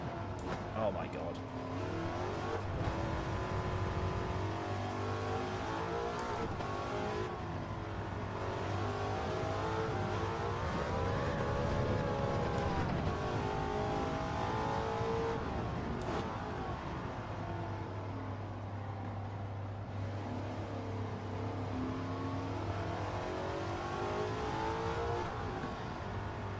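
A race car in Gran Turismo 7 on sports tyres during a Nations Cup race, its engine revving up and down through long gears, steady and prominent throughout with a voice talking over it.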